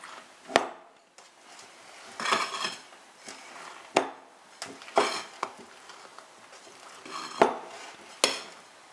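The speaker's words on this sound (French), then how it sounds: "la farine et on va continuer de bien remuer comme ça." Genoise sponge cake batter being stirred as flour is folded in, heard as a run of sharp utensil knocks and scrapes against a bowl, several distinct clacks spaced irregularly, fairly close and with no talking.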